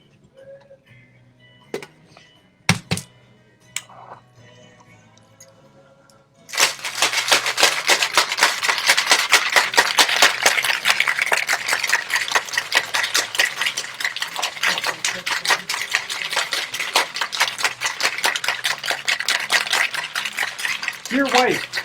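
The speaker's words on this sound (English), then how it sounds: "And we're going to shake that." A cocktail of juice, allspice and rum is shaken hard with ice in a metal shaker, a loud, steady rattle lasting about fifteen seconds after a few quiet clinks and knocks.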